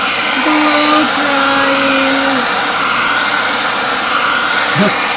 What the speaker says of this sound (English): Blow drying.